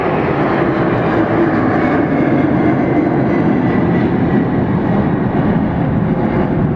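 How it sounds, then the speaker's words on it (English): A Boeing 767 jet airliner roars past close by at Atlanta Hartsfield-Jackson airport, a loud, steady broadband rumble that fills the whole clip without any voices. "It looks like a 767"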